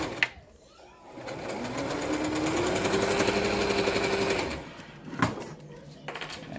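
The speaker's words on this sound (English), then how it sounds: "And then you're just going to go straight down." A sewing machine runs close by in one continuous whirring burst of a few seconds as it stitches a fabric medical face mask, with quiet handling sounds before and after.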